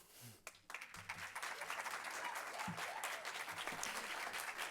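Faint, distant clapping from the audience at a county school board meeting, starting quietly and swelling into sustained applause in a large room.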